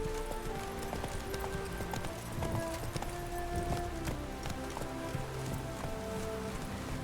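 Roach, a horse in The Witcher 3 video game, gallops with a rapid, even clip-clop of hooves that runs the whole time against a soft rain-like background, moderately loud and with no talk over it.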